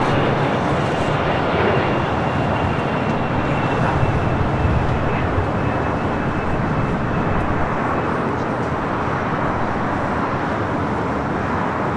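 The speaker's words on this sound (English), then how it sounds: "An old Delta 757-200, 26 years of age, flight 523" Delta Boeing 757-200 airliner, 26 years old, at LAX, producing a continuous loud jet rumble that stays steady for the whole stretch, with faint traffic noise beneath and no voices.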